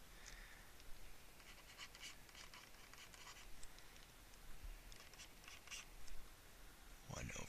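Marker or pen strokes scratching across a board or tablet while working a rational-expressions subtraction problem, a quiet series of short irregular squeaks and scrapes in bursts with pauses, no talking.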